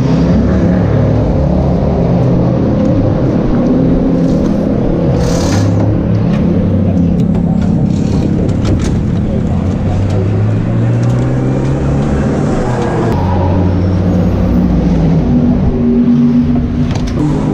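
Race car running laps at the Nürburgring 24 Hours on a slick track with damp patches, with a loud, continuous engine roar that stays close and steady throughout, rising and falling slightly with acceleration.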